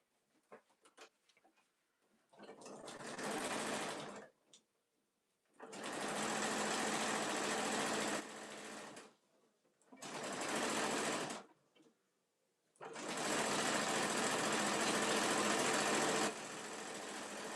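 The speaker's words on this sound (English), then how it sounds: "All right, I'm going to sew this down." A sewing machine sews the seam of a full-size top-handle tote bag in four loud, close bursts of fast stitching, each separated by short pauses of near silence.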